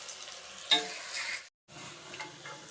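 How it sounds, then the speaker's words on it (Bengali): Ingredients for dhokla fry in a pan with a soft, steady sizzle. A brief louder stir sounds early on, then a short silent gap, then the gentle frying resumes. "লাল লাল করে ভেজে নিতে হবে।"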